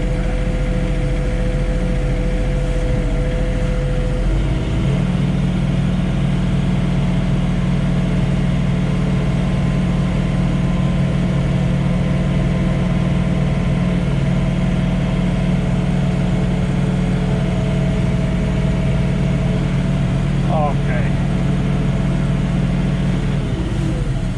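A John Deere 3046R cab tractor engine runs steadily at around 1500 RPM while snow blowing at night, a continuous close drone with a slight shift in pitch partway through and no talking.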